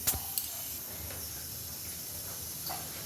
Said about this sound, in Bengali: এদিকে কড়াইটা গরম হয়ে গেছে দিচ্ছি সর্ষের তেল